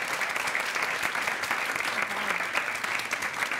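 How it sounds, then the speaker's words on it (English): A live studio audience at a game show claps steadily throughout, a dense and even round of applause at moderate distance without letup. "That's still worth a round of applause."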